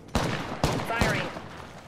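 Three heavy gunshots from Apex Legends, spaced about half a second apart, each a loud close blast that rings out over a noisy in-game background.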